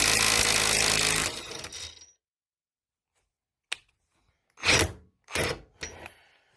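A cordless drill strains against a fastener tightened to 110 foot-pounds, first a loud sustained mechanical grinding and ratcheting, then silence, then a few short, sharp, separate bursts of rattling impacts, close and loud.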